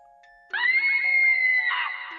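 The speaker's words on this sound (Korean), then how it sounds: "하는 아주머니의 비명소리가 들리더니" A woman's high, sustained scream suddenly bursts in after a quiet lead-in, loud and piercing, used as a horror radio drama sound effect.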